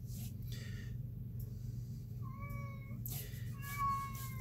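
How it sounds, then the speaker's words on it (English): A cat cries at the door of an indoor art room, giving several drawn-out, plaintive meows in a row against a low steady hum, moderately close but quiet. "And that's Hammy, the cat, crying to come in the art room"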